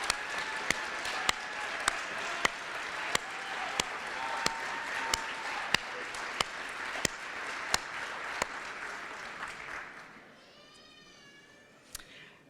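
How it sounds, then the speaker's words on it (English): A small crowd claps steadily for several seconds at a ribbon-cutting ceremony, then the applause fades out and a faint high voice or meow is heard near the end. "I want to ask you to give Devon a big round of applause."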